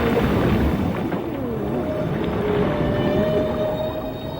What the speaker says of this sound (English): The whale's cry is ultrasonic